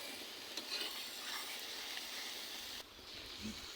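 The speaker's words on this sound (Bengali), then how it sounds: "জিরা বাটা এগুলো দিয়ে নাড়াচাড়া করছি।" Fried cumin paste is stirred in a hot pan, a soft steady sizzle with faint scraping of the spatula, close but quiet and continuous throughout.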